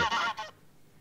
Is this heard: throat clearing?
no